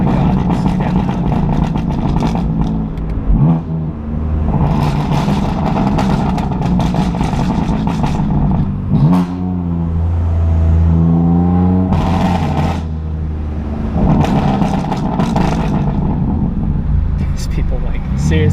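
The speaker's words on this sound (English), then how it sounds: "I can't get over how loud this car is." A loud BMW F82 M4 with a burble exhaust tune driving through city streets, its engine droning and revving in rising sweeps, with people talking over it.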